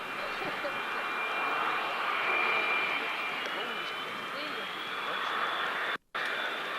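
Aircraft departing at the 1994 Mildenhall Air Fete, a distant, steady jet engine roar with a high whine, faint and even, briefly cut out near the end.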